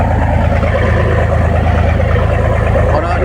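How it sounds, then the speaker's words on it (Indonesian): A ship's engine, on a Batam to Karimun ferry near Sekupang, drones loudly and steadily throughout, a constant low hum with a harsh broadband roar over it, apparently running at full speed. "kalau naik suaranya berarti kelajuan kapal sudah dimaksimalkan"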